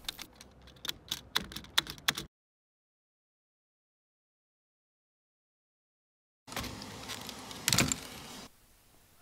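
Keycaps are pried off an Apple Macintosh Classic II keyboard from 1992, giving a quick run of sharp plastic clicks and snaps, then silence, then a burst of rattling and handling noise.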